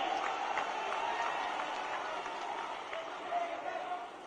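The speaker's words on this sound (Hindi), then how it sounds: "सभी लोग ऐतिहासिक तालियों से राहुल जी का स्वागत करें।" Large crowd at an outdoor political rally in Kalapipal, Madhya Pradesh, applauding to welcome Rahul Gandhi, a steady dense wash of clapping and cheering sustained throughout at moderate distance.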